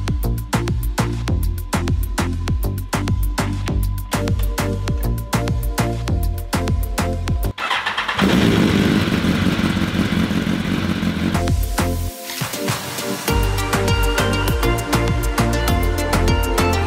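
A motorcycle engine runs steadily with a fast, rhythmic firing pulse, broken midway by a few seconds of louder, rougher roaring before the even beat returns. The engine is close and loud, and no one speaks.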